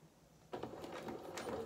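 A sewing machine starts up and runs a short stretch of seam on doll-sized culottes, including a couple of reverse stitches, whirring close and steady after a quiet start.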